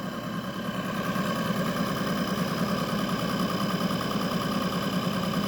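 A car engine running steadily at about 600 RPM during an ignition timing check, a close, even idle-like hum with a light rhythmic knock, no talk.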